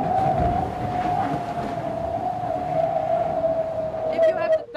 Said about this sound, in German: Das Vollcarbonboot heult vermutlich schlimmer als ein Wal mit Liebeskummer.